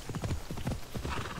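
Horse hooves galloping in Assassin's Creed Odyssey, a rapid clip-clop rhythm at moderate distance, fairly quiet, running steadily through the whole moment with a faint voice underneath.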